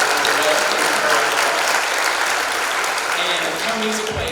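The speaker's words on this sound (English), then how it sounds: "Please give her a round of applause." Loud, sustained audience applause fills a high school senior awards night at Sardis High School, a continuous wash of many hands clapping close by that holds steady from start to finish.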